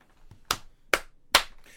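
Three sharp, close hand claps in an even rhythm, each a crisp isolated smack in a quiet room, no talk over them.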